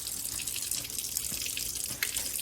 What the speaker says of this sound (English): after 20 seconds, you can rinse off your hands